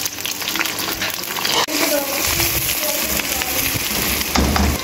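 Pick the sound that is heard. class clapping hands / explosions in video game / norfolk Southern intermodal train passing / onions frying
onions frying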